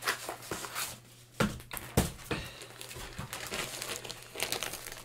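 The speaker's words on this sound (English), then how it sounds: "So we've got a big plastic bag full of comics." A big plastic bag stuffed with Marvel G1 comics crinkles close up in soft, irregular rustles, with a few sharper crackles as it is handled.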